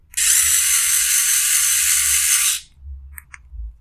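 A PROFI-TEC PCP Universal cordless 3-in-1 mini tool with its mini cutter attachment, 40 mm disc, runs with a steady high-pitched whine for about two and a half seconds, then stops, followed by two faint ticks.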